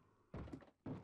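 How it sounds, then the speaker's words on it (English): Heavy banging on a door in the modded Minecraft game Forever Stranded, two dull, muffled thuds about half a second apart, fairly close and alone. "Somebody's banging on our door."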